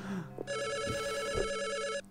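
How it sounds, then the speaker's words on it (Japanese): Telephone ringing in the horror video game Yoiyami no Kage, a steady electronic trill lasting about a second and a half, with brief low speech mixed in around it. "え、どれ電話どれどの電話が鳴ってんだ"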